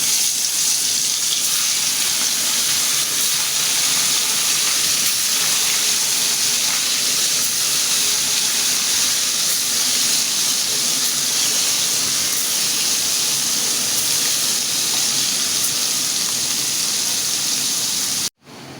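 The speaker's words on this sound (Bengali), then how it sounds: "তেলটা গরম হয়ে গেছে এখন আমি মাছ দিয়ে দিই" Koi fish frying in hot oil for a curry with bottle gourd, a loud, steady, dense sizzle and hiss that holds without a break for about eighteen seconds and then cuts off abruptly.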